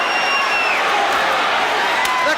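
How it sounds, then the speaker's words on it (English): A boxing crowd roars and cheers at the close of a hard-fought championship bout, a dense, loud, sustained wall of voices with scattered whoops and whistles, while a commentator talks over it. "The crowd is on its feet."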